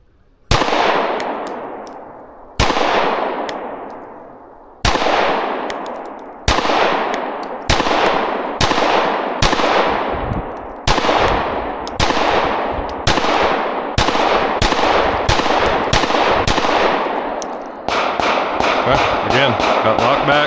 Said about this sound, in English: We are shooting some S&B 115s out here.